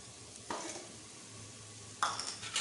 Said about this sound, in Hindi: ये थोड़ा सा हम इसको भून भी लेंगे प्याज़ों के अंदर